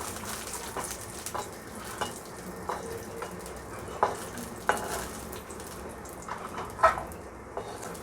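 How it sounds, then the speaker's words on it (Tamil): Cashews and raisins fry in ghee in a pan for avul payasam, with a soft continuous sizzle and regular scraping clinks of a spoon stirring against the metal, close and with no talking. "அதில் நம்ம எடுத்து வச்சுருக்கிற முந்திரி, திராட்சையை போட்டு வறுத்துக்கோங்க."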